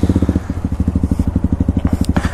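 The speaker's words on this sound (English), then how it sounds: "You want to rev the engine?" A motorcycle engine idles and revs in steady rapid pulses close by, with a quick rise in pitch near the end.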